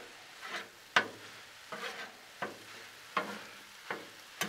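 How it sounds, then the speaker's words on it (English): A spatula scrapes and stirs cream cheese into taco pasta on a Blackstone griddle with steady, rhythmic strokes, about seven sharp scrapes over a soft sizzle, close and without talk. "to mix that cream cheese in, you just kind of keep on stirring it around."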